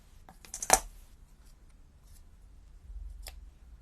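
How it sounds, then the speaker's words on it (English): Scissors snip through card stock during decorative card making, one sharp loud cut near the start with softer rustling after and a faint second snip later, no talking. "I'm going to go with the scissors again"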